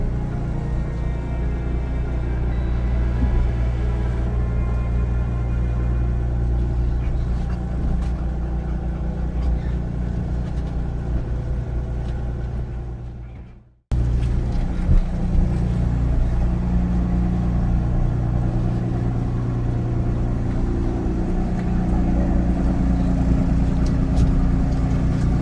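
A car rolls onto the Raja vehicle ferry from Koh Samui: a steady, close engine rumble with low road noise, briefly cut off midway, then the same idling drone resumes.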